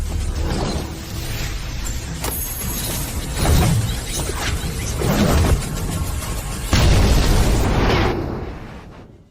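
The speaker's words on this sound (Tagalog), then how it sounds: "Sumabog na naman ang kaldero." Several loud bursting booms in quick succession, each with a rumbling, crackling tail, as a small cooking pot blows apart close by.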